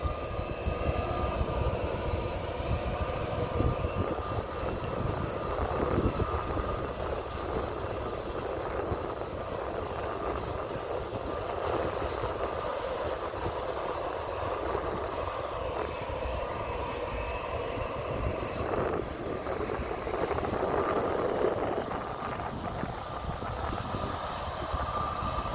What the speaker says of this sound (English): somewhere down the runway is a Boeing 737. That one is gonna go.